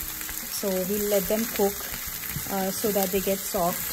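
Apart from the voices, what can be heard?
eggplant and vegetables cooking in Thai curry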